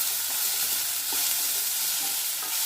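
Ginger garlic paste with a little turmeric frying in a pan for a ridge gourd milk curry, giving a loud, steady, close hiss of sizzling oil with faint stirring scrapes throughout.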